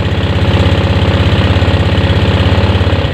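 A motorcycle engine idles close by, a loud, even, rapid thumping putter that holds steady throughout.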